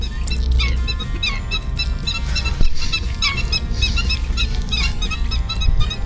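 Many bright bird chirps and calls ring out steadily over a low outdoor rumble, with no talking.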